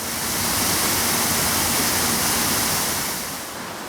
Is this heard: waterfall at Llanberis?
yes